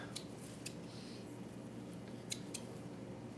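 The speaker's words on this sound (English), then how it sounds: "we want to cut them so that they're the right length" Scissors snip pieces of grass to length for a lining in a photosynthesis lab chamber, several crisp, close cuts spaced irregularly with no speech.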